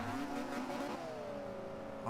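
Mazda RX-8 racing in Forza 5 on the London Top Gear test track, a sustained engine drone holding a steady pitch that eases slightly downward, with a faint tire hiss underneath.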